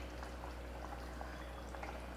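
Taro and sardine curry simmering in a pot, a faint, steady bubbling with small pops and gurgles over a low hum.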